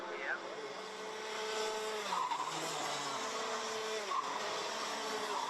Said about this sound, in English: Tim Gerhards, who now comes across the line to complete another lap here.